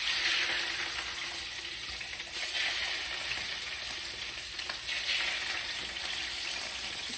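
Oil sizzles and fries steadily in a pan for a salmon terrine, a dense continuous crackle with a few swells in intensity, close and fairly loud, with no talking.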